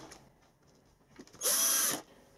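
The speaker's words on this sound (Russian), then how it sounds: "Прикручиваем нижние саморезы." A screwdriver drives the lower self-tapping screws into a DeLonghi ECAM22.110 coffee machine during servicing, with a short sharp whir of about half a second after light clicks and handling noises.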